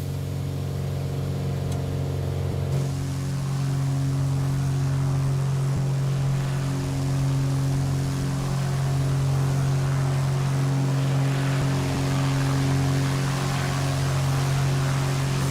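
A Boeing 737-700 in Microsoft Flight Simulator 2020 throttles up, its engines a steady loud drone with a strong low hum that broadens and grows louder after a few seconds, with no talking.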